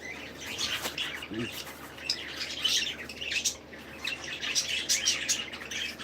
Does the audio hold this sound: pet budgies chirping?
yes